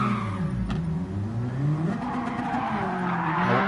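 Race car in Gran Turismo 7 spinning out after hitting a curb the wrong way: loud tire squeal and skidding over a revving engine, continuous and close, with a brief thud early on.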